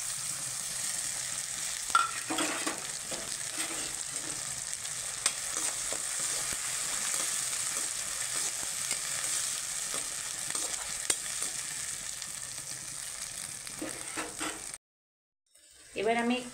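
Ground spice paste fries in a pan with a steady, bright sizzle and crackle, stirred now and then with scraping sounds, while someone talks over it. The sizzling cuts out briefly near the end and then resumes.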